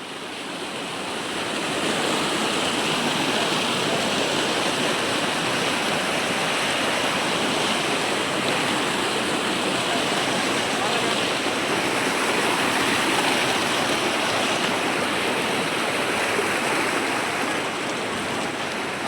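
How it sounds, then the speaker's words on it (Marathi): Snowmelt water rushing down a mountain stream near Yamunotri in the Himalayas, a dense, steady roar that swells in after a couple of seconds and holds loud and close. "पाण्याचा आवाज"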